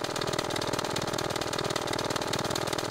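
A propeller aircraft engine in a flight game runs at a steady idle, an even, rapid mechanical drone with a fast regular pulse that holds constant and close throughout, with no speech.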